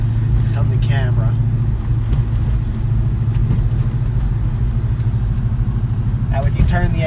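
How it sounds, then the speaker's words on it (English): Cammed 2004 Ford Mustang GT New Edge V8 idling with the air conditioning loading it, a steady loping low rumble heard from inside the car, with a person talking over it. "when you turn the AC on, it puts a little load on the engine and the cam's really low with the load"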